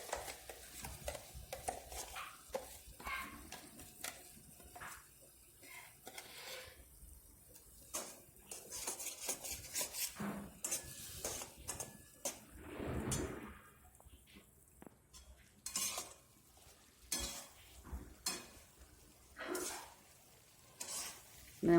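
Masala being stirred into drumstick pods frying in a pan: a spoon scrapes and clinks against the metal in irregular bursts over a low sizzle, with occasional quiet talking.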